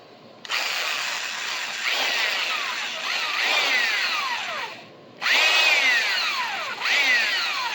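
A power drill driving self-tapping screws during a trailer repair whirs in several bursts, each pitching down as it bogs under load and then revving again, loud and close.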